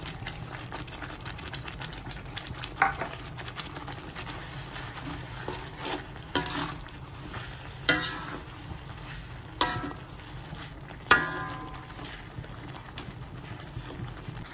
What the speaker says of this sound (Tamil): இடித்த நெத்திலியை போட்டு கிண்டிச்சு இந்த நெத்திலியை போடுங்க